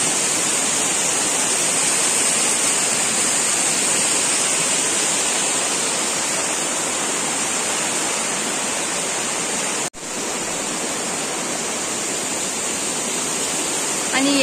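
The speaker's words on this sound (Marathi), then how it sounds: "आनी हे देवळाचे सामकें तेक्कोन हो वॉटरफॉल असो" Small waterfall beside a temple, rushing water pouring steadily as a constant broadband roar close by, with one brief dropout near the end.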